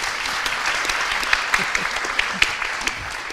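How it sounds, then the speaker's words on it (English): A round of applause from the audience at a business services forum and awards event in Bucharest: steady, crowded clapping at an even level throughout, with no speech over it. "Give him a round of applause."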